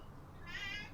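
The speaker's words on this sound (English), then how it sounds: "he's mostly meowing about the fact that I won't let him outside" A single soft, short meow from a house cat kept indoors, quiet and brief against low room noise.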